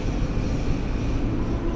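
Passenger train in Train Sim World 4 on the LIRR run from Atlantic Terminal to Far Rockaway, easing forward from a stop, with a steady low rumble and broadband rolling noise throughout and no voices.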